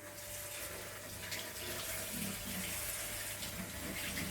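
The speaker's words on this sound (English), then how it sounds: "rinse this under water too, cold water" Cold water runs steadily from a kitchen tap while raw chicken is rinsed for a garlic lemon rosemary chicken dish, a constant close splashing rush with no talking.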